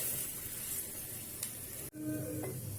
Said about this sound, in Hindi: इसको ब्राउन होने तक फ्राई करेंगे।